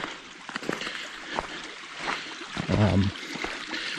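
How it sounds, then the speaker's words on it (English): Creek water flows and trickles through a culvert outdoors, a constant gurgling wash with a brief louder splash-like burst near the middle and a voice talking over it. "she's flowing nice through the culvert"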